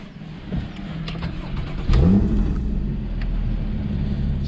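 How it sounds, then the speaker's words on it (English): A Porsche Boxster GTS 981 with its 3.4-litre flat-six and PDK gearbox cranks and fires up close by, a sharp bark of ignition settling straight into a loud, steady rumbling idle with no talk over it. "I'm going to start the car up so you can actually hear it."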